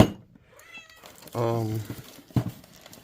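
A black cat meows up close in a garage where boosted box Chevy parts are being looked over, with one drawn-out meow in the middle, short trailing calls after it, and people talking around it.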